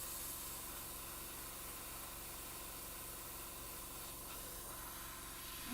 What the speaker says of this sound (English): we're also going to be airbrushing in some browns